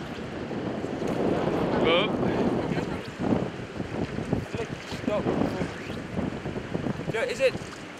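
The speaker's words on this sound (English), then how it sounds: "it was quite windy" Strong wind buffets the microphone on a Caribbean coast during fly casting, a rough, uneven roar with gusts and faint water sounds, and people talk intermittently underneath.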